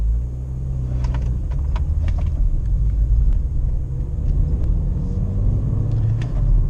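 A 2013 Fiat Palio Essence with a 1.6 16V E.torQ engine runs at a smooth, even idle, a steady low rumble heard close up with a few faint clicks and no talk.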